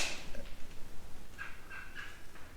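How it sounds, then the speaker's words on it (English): On the abandoned Fernald School campus, a small bird gives a few short, bright chirps, moderately faint over quiet outdoor background noise with no talking. "Oh, there's a little bird."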